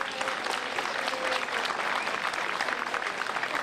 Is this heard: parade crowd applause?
yes